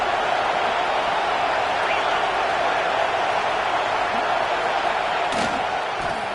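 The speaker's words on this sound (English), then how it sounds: "This crowd rising up, sensing that its defense needs some help." Football video game stadium crowd rising into a loud, steady roar that holds throughout, a continuous wash of cheering noise with a brief sharper burst near the end.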